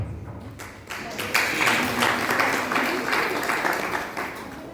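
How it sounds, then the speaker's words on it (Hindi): Audience applause at a Hindu religious discourse, a sustained wash of many hands clapping that swells after a second and holds steady, fairly loud. "ताली तो बजा दी"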